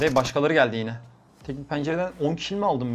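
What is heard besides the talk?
No distinct noise like a dog, phone or traffic.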